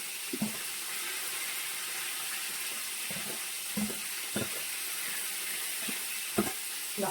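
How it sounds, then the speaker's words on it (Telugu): Onions fry in a pan for a home-cooked biryani, with a steady sizzle and soft scattered stirring clicks at a close distance and no talking. "ఆనియన్స్ కొంచెం బాగా ఎరగాలి"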